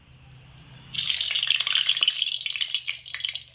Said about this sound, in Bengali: কড়াইতে সাদা তেল দিয়ে ভালো করে গরম করে নিয়ে হালকা একটু ঠান্ডা করে নিয়েছি। এবার আমি এর মধ্যে খাজার লেচিগুলোকে দিয়ে দেব।